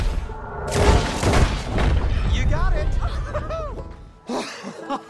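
Gunfire in Red Dead Redemption 2 crackles in loud booming bursts across several seconds, with laughter and talk from players mixed over the shots.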